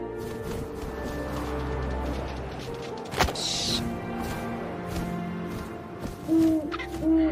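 An owl hooting in the video game What Remains of Edith Finch, with soft hoots over a quiet ambient bed, a sharp thud partway through and brief tonal calls near the end.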